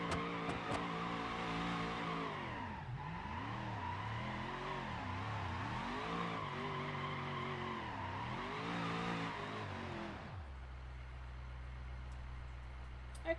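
Engine of a heavily damaged Gavril Vertex in BeamNG.drive revving hard as the car drifts through donuts, loud and continuous with rising and falling pitch sweeps and tire squeal, then dropping to a steady idle rumble near the end; no talking.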